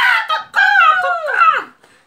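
A person imitates a seagull with their voice, giving loud, close, squawking wails that rise and bend in a few drawn-out calls for a children's song.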